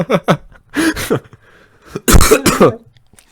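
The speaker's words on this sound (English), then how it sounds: "That cough had a lot of buildup" A person coughs hard and close, several loud harsh bursts with short gaps between them and building up toward a final heavy fit, with no talking in between.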